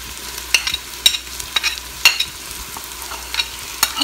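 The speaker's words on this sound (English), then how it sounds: "And you stir it all together." Chili peppers and garlic are stirred in a hot pot on high heat, a steady sizzle broken by a series of sharp scraping clinks from the utensil, close and alone.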